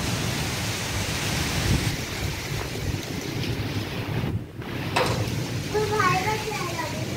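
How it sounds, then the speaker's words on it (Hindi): Heavy rain pours during a sudden storm in Aligarh, with thunder and gusting wind rumbling through a dense, constant hiss and a brief louder crack near the end. "लेकिन बिजली बहुत कड़क रही है।"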